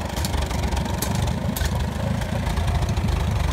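A Farmall Super M tractor engine running at idle nearby, a steady low rumbling chug that holds even throughout with no pauses.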